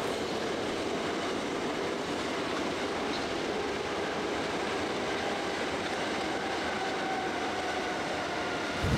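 An electric train rolls steadily past beyond a fence, a continuous broadband rush of wheels and rails with faint squeals, heard from a short distance and holding constant loudness throughout.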